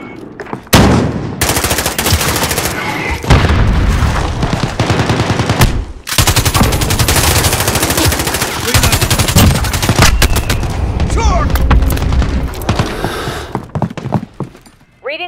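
Dense, loud gunfire from Call of Duty: Modern Warfare (2019), Operation Kuvalda, rattling almost nonstop with heavy thumps of mortar fire and a brief lull near the six-second mark.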